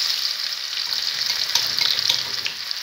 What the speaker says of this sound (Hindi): हमने इसमें एक पाव घी डालकर उसको खूब गरम किया है। अभी हम इसमें लहसुन